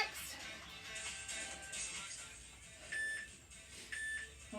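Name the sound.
workout timer beeps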